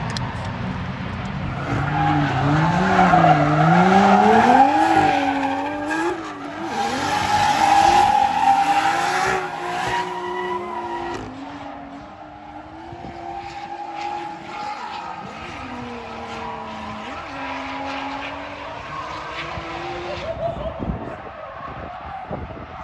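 Race car drifting at a motorsport event, tires squealing in long sweeping skids as the engine howls and pitch rises and falls, loud and continuous for over twenty seconds with crowd-level background noise.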